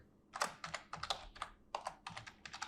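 Fast typing on a computer keyboard, a dozen or so crisp key clicks in quick bursts with short pauses, close and fairly quiet, no speech.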